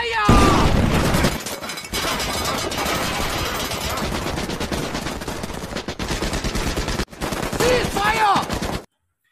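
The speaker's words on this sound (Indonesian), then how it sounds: "Bruno dengan cepat memerintahkan seluruh anak buahnya menembak secara beruntun ke arah keberadaan Korpi" Rapid bursts of automatic gunfire in a film action scene, loud and sustained over several seconds with brief pauses, mixed with dramatic score and effects.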